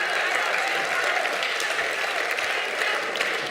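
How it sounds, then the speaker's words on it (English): An audience at an annual cultural program applauds steadily, a dense, even wash of many hands clapping at constant loudness throughout. "A big round of applause for him"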